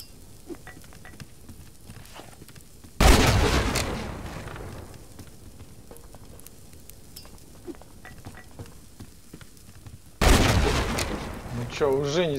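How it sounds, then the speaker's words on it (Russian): Two grenade explosions in the survival video game Subsistence, each a sudden loud broadband blast with a rumbling decay lasting about a second, separated by several seconds of quiet ambience. "у нас есть еще две гранаты, давай я их заюзаю"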